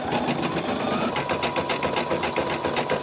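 An embroidery machine stitches a satin stitch on a hooped piece for a Christmas craft, its needle buzzing in a fast, steady, close rhythm that runs unbroken and loud without any talk.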